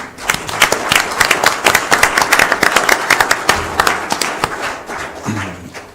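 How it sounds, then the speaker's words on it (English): A local chamber of commerce candidates' forum ends in audience applause, a lively, fairly loud stretch of many hands clapping with distinct sharp claps standing out, continuing steadily before tapering near the end. "I want to give the candidates and you in the audience a round of applause"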